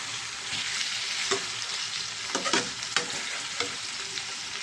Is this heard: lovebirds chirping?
no